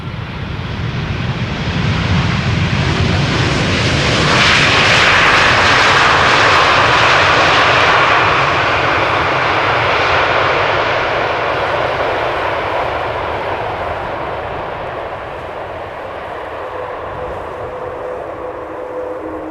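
The KLM passenger jet on flight 741 from Cartagena arrives on Schiphol's Polderbaan runway on a hot, sunny day as a loud, broad engine roar. It swells to a peak midway, then slowly fades as the aircraft passes.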